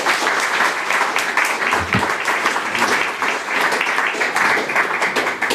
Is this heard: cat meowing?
no